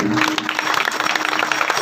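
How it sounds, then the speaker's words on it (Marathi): An audience claps along during a Marathi kirtan, a dense, continuous patter of hands close by for a couple of seconds. "टाळी वाजवून"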